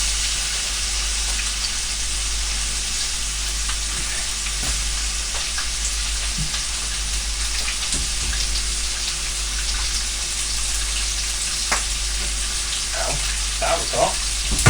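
Sausage and grapes sizzle in a hot pan, a constant bright frying hiss under occasional clinks and stirring taps, with the taps growing busier near the end; no talk.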